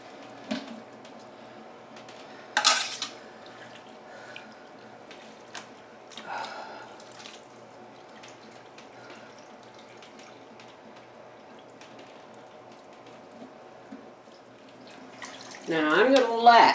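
Homemade broth strained for canning, with soft wet sloshes, drips and trickles scattered over a quiet kitchen background, and a louder pouring swell near the end.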